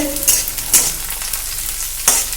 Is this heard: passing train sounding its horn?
no